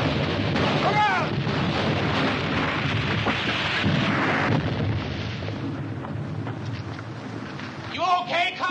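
Artillery fire in a World War II combat scene, with heavy booming bursts and rumbling blasts that fill the clip loudly and continuously, mixed with shouted voices in the thick of battle.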